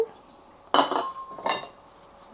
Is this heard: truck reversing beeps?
no